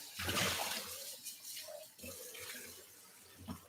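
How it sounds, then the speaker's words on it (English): A measuring cup gets rinsed under a running kitchen tap, with a steady splashing rush of water and shifting gurgles as the cup fills and empties, close and fairly loud. "Rinse that out real quick because we got to put oil in there later."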